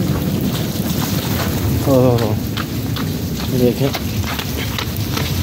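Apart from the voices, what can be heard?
heavy rain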